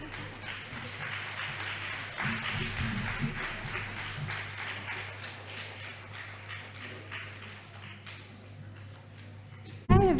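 Audience applause at a book release event at Madhava Kripa School, a steady broadband patter of clapping filling the room for about ten seconds, swelling slightly near the start and ending with a sharp louder burst.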